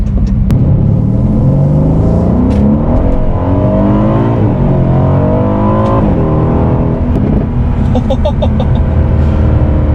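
A 2018 Aston Martin DB11 V8 at full throttle gives a loud, close engine roar with pitch climbing through the revs, broken by a few quick gear-change dips and sharp pops near the end.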